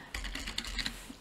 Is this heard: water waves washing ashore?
no